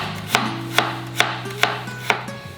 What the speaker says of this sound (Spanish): Entonces hay que picar la cebolla muy finita.